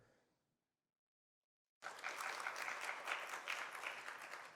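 After a brief fading sound and a second of silence, an audience in a church hall breaks into sustained, even clapping to welcome a lecturer, close and continuous to the end.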